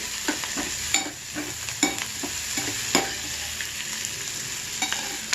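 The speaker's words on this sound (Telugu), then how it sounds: "ఇక్కడ పెద్దలపాయలు మాత్రం ఒక ఐదు నిమిషాలు సేపు దాకా గోల్డ్ కలర్లోకి వచ్చిన దాకా వేయించుకోవాలి" Onions frying in a pan until golden, a steady sizzle broken by repeated spoon scrapes and taps against the pan at an uneven pace.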